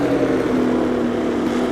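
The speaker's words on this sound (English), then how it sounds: "the first thing I noticed was the weird note coming out of the engine, the sound of it" Pessio Porknose, a modernized 1960s-style formula race car with a low-revving truck engine in Assetto Corsa, gives a steady, loud droning engine note with a strong low hum, running continuously and alone.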